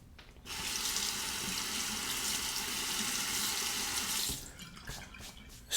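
A shavette razor being rinsed under a running tap, a steady stream of water splashing for about four seconds before cutting off, then a few brief knocks and drips.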